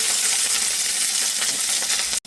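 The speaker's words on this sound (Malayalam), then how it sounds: "ഇത് രണ്ടും നന്നായിട്ടൊന്ന് മുരിഞ്ഞു തന്നെ" Dried red chillies and curry leaves frying in hot oil, a loud, close, continuous sizzle with crackling texture that holds steady before cutting off abruptly near the end, no voices.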